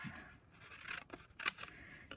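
Big scissors cut through card stock in a few short, quiet snips and rubs while a reinforced gift box for concertina cards is being trimmed, close and soft with pauses between cuts.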